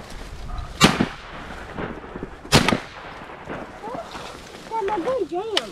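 Duck hunters fire shotguns in two sharp, loud blasts a couple of seconds apart, with fainter pops between them, while people talk and ducks quack near the end.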